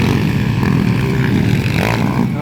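Motocross bikes race in a final heat at a dirt track in San Antonio, Santa Maria, Davao Occidental, with a loud, continuous engine drone throughout the short stretch.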